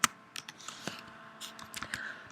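Code being typed on a computer keyboard: close, irregular runs of light key clicks and taps, with a few sharper strikes.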